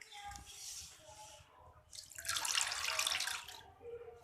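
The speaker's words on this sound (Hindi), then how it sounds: "अब हम इसका पानी निकाल देंगे।" Water draining from soaked potatoes in a kitchen sink, poured off after five minutes in ice-cold water, giving a faint trickle that swells into a louder, steady splashing rush midway before tapering off, with no talk.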